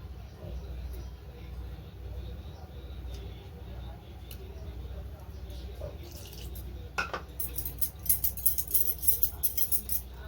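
Chocolate cake batter with cocoa powder and milk being stirred in a bowl at home, a soft steady scraping that turns into brisk, close clinking of a spoon against the bowl in the last few seconds.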